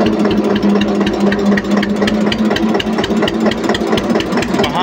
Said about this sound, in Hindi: सिंपल स्टीयरिंग ट्रैक्टर घूमने में बड़ा दिक्कत करते हैं